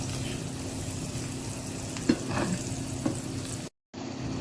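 Chopped onion, garlic and green chili frying in a pan at home, a steady close sizzle with a few light stirring scrapes, then a brief cut to silence near the end.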